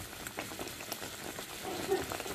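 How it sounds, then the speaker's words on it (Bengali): Bone-in chicken is stirred into masala frying in oil in a pan, giving a quiet, steady sizzle and bubbling with light clicks of stirring. "আমি পাত্রে হাড় চিকেন ঢেলে ভালোভাবে মিশিয়ে নিয়েছি"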